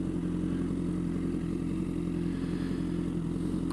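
A motorcycle engine runs at a low, steady speed close by as the bike pulls away on the clutch with no throttle, a continuous rumbling drone with faint clatter and no voices.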